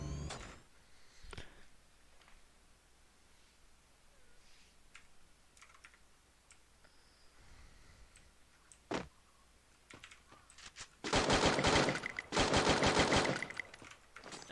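Gunfire in the Free Fire mobile battle royale game: scattered single shots at first, then two loud, sustained automatic bursts close together near the end, with no talking.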